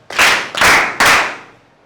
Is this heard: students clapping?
yes